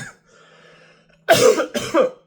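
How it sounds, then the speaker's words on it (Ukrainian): Two harsh coughs in quick succession, close and loud, after a brief stretch of faint background hum. "Сорі за кашель."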